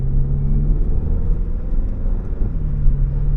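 Audi A1 40 TFSI accelerating in third gear in sport mode at about half throttle, with a steady, loud low engine drone and rumble heard from inside the cabin and no talk.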